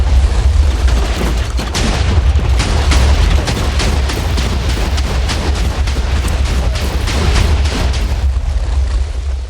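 Cannon fire in a video game set in the Civil War, heavy booms and bursts repeating rapidly over about ten seconds, loud and dense, layered with crackling volleys and constant low rumble.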